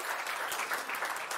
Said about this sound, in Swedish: Ja, de kan få en applåd tycker jag.